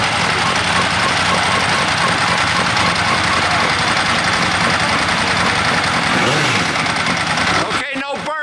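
MV Agusta F4 four-cylinder motorcycle engine running steadily and loud up close, a dense continuous mechanical roar with voices talking over it, cutting out abruptly at the end.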